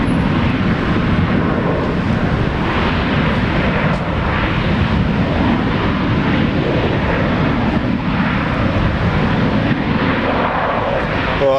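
A five-year-old Jetstar Boeing 737 MAX 8 jet at Brisbane Airport produces a dense, steady engine roar that stays loud and close across the whole stretch, with slight pulsing surges.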